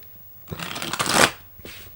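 A deck of tarot cards shuffled up close, a loud riffling burst that swells and fades, followed by a shorter softer riffle, with no talking.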